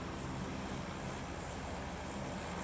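An airplane engine in the video game PUBG drones steadily and loudly throughout, a continuous broadband roar with low humming tones underneath and no voices.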